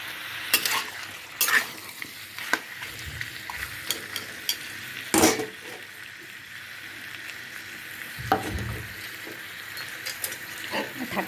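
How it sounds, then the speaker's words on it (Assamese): Chicken frying on a low flame while being stirred, a low, steady sizzle broken by several loud scraping bursts of a spoon against the pan, close up with no speech. "প্ৰায় 5 মিনিটমান সময় এনেকৈ ল' ফ্লেমত ভাজি থাকিব লাগিব"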